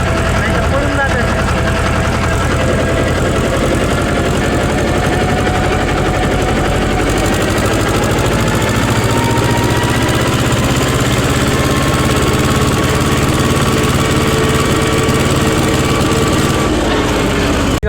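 A tractor engine running on the way to the field, a loud continuous mid-pitched chugging drone that holds steady throughout with a slight shift partway, talking mixed in over it.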